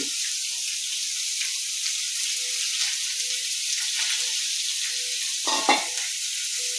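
Chopped onion frying in a pan of hot oil for a spicy potato and bean curry, a continuous bright sizzle with scattered pops and a couple of louder stirring scrapes, no talking.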